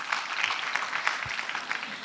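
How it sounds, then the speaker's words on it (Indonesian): Scattered, modest audience applause rings out in an Indonesian international relations careers session after a speaker thanks a guest. The clapping is fairly faint and thin, a light patter from a moderate crowd without talk over it. "tepuk tangan dulu dong untuk Pak Nara"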